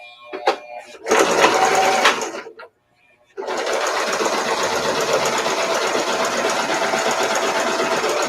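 Sewing machine stitching through layered fabric, a short loud burst of rapid stitches, a brief pause of silence, then a long steady continuous run after reversing.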